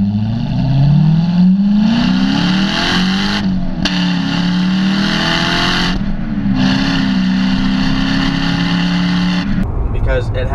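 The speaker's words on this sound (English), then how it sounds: "My favorite thing right now would have to be probably the exhaust note." A 2011 Corvette Grand Sport with a GM NPP exhaust drones loudly as it revs and accelerates, pitch climbing and easing off in sweeps through two gear changes before it cuts away near the end.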